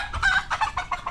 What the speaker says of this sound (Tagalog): Yo, Ikar, ang manok mo.